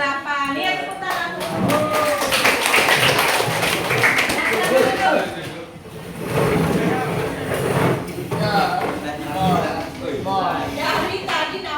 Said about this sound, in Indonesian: Nih tepuk tangan.